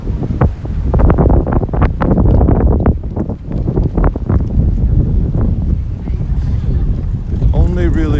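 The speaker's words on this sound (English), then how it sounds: "It's only really windy at the side streets." Wind gusts roar across the microphone on an Osaka side street at night, a loud buffeting rumble that rises and falls while people talk over it.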